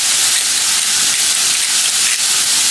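Pork sizzles steadily in a hot pan, a loud, even hiss of frying meat seasoned with salt and pepper, close and continuous with no talk over it.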